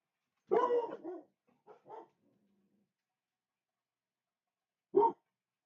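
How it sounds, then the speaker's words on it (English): Several dogs barking indoors, a loud cluster of barks near the start, a few quieter ones after, then one more sharp bark after a silent pause. "Sorry about my dogs."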